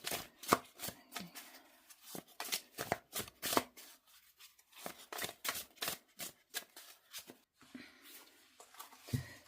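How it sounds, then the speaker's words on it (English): A deck of tarot and oracle cards being shuffled by hand in quick, crisp riffling bursts with short pauses between them, close and fairly quiet, with no talking. "Just give them a quick shuffle."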